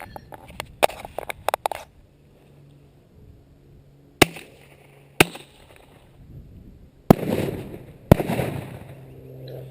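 Explosive shotgun shells fired outdoors: a few light clicks first, then four sharp, loud bangs spaced about a second apart, each trailing off quickly.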